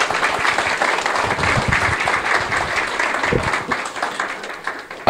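Audience applause at a 2012 Okutama town mayoral election public debate, a steady wash of clapping from a hall crowd that fills the whole stretch at even loudness.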